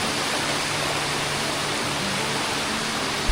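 Water falls from above onto a countryside spot where people sit beneath it, a steady, close, full rushing wash with no pauses and no talk.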